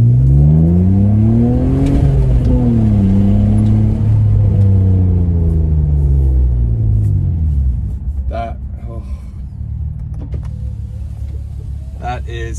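A BMW E46 325xi with a weighted short shift knob revs hard in first gear, then shifts into second and pulls away, its engine note climbing and falling in loud sweeping harmonics before settling to a lower steady drone.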